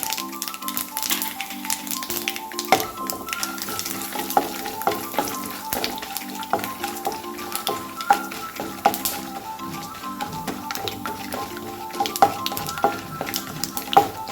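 Urad dal, roasted chana and peanuts fry in oil with a busy, continuous sizzle and dense, rapid crackling and tapping pops, fairly loud and close, with no talking.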